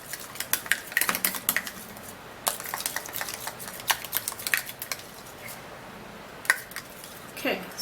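Drops of rose water are stirred into a homemade eyebrow cream mixture, giving close, irregular light clicks and soft scraping taps scattered throughout.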